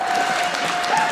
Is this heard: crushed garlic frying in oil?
no